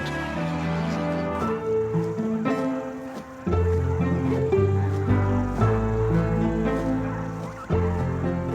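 A large flock of flamingos calls at a vital Arabian wetland in winter, a dense, continuous, honking gabble of many overlapping birds.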